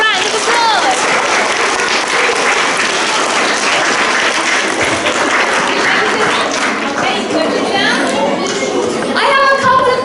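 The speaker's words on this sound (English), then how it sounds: "Let's give all of our stars a big round of applause." A school assembly of children applauds the stars of the week, a long, lively round of clapping with excited young voices calling out and chattering through it, swelling slightly near the end.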